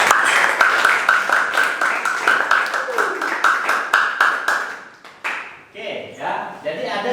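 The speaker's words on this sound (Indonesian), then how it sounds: "Tepuk tangan dulu untuk Ketaro" A class of students in an Islamic religious education lesson claps for Ketaro in a quick, even rhythm of sharp claps. The clapping stops abruptly, and a voice speaks over the remaining sounds.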